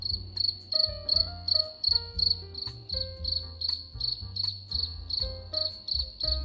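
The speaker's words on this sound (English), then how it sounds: "for this one we are adding some crickets" Crickets chirp in a steady, rapid pulsing rhythm, loud and close, with a low tonal hum running underneath.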